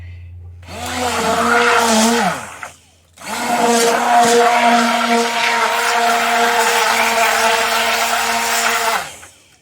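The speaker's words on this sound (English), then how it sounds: "And I'm going to be using a submersive blender." An immersion blender purees pumpkin pie filling in a pot with a loud, steady motor whine, running in two bursts separated by a brief pause, with the blade churning the thick mixture.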